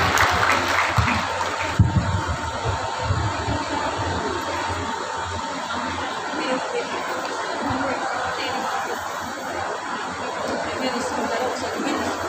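Applause from the audience at a BJP Mahila Morcha women's meeting in Peddapalli: steady broadband clapping that runs for the whole stretch, mixed with crowd chatter and a voice over a PA.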